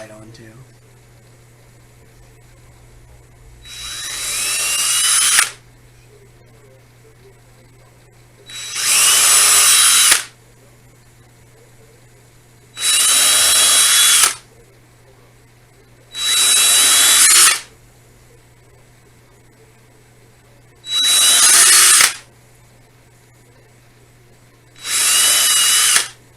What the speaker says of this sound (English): Once I had them all in there marked, pre-drill the holes.